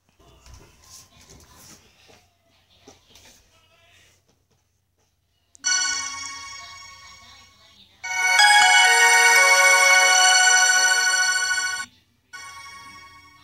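The Nokia logo startup tune plays as short tonal bursts after a quiet start, then one long bright sustained phrase that cuts off abruptly, followed by a brief restart.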